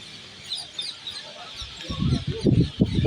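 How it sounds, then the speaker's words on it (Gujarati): A flock of parrots perched in trees beside a lake, calling with raucous squawks that grow louder and denser toward the end, close by against outdoor background noise. "એકો એક ઝાડથી ઉપર આ બધા પોપટ બેઠા છે અહીંયા"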